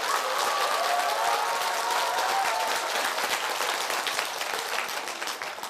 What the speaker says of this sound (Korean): 왜 박수를 치시는가 했습니다